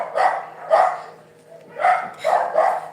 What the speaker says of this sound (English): Always this dog start to bark when I want to do my videos.